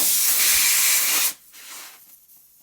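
Air hisses from a tyre valve after an inflator hose comes off during a tyre change, a loud, sharp rush that cuts off abruptly after about a second, followed by faint fainter hissing spurts.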